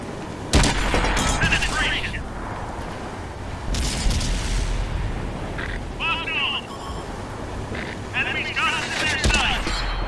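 Tank cannon fire and explosions in the World of Tanks video game, loud booming shots and blasts recurring through the battle with someone talking over them.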